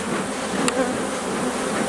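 Agitated honeybees swarming around an open hive that may have lost its queen: a dense, continuous close buzz of many wings, with one sharp tap partway through.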